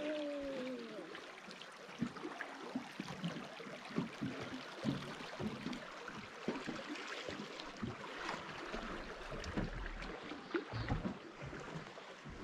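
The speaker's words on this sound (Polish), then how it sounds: "Tam taki ładny wodospad." A waterfall in Glacier National Park gives a steady broadband rush of falling water, moderately distant and even, with small splashy surges throughout and no talking.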